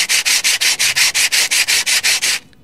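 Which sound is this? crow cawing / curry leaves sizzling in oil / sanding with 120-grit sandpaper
sanding with 120-grit sandpaper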